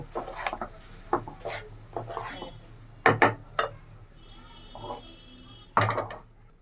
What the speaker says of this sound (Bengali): চুলায় আমি একটা কড়াই বসাই দিলাম